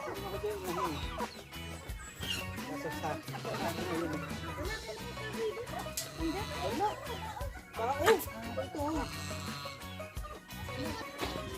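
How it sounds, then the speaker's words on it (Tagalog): Chickens cluck and squawk close by in bursts as people catch them, amid busy outdoor commotion and talking. "nanghuli tayo ng manok"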